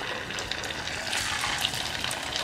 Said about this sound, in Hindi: जो पोहे की नमकीन पापड़ियां हैं वो हम डाल देंगे